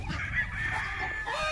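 Ducks and ducklings in a backyard give steady, nasal honking calls from close by, a continuous clamour of overlapping voices with no speech.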